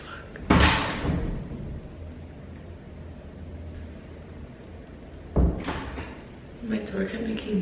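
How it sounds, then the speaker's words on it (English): A door knocks and thuds nearby, with a sharp bang at the start and another a few seconds later over a quiet room hum, and a voice speaks briefly at the end. "my door kept making noises and it really scared me"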